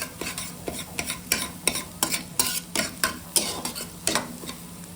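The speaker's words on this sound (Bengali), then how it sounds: "ডিমটা এখন ভুজি করা হচ্ছে" Eggs being stirred and scrambled in a pan, a spatula scraping in a steady rhythm of about a dozen repeated strokes over a low background sizzle, close and clear with no talking.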